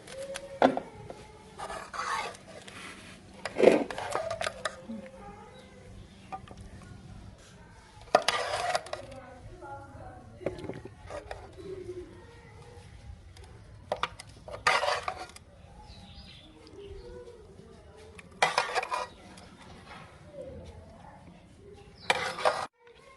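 A cooked capsicum and potato dish is spooned out of a pan, giving scattered metallic clinks and scrapes with quiet gaps between them.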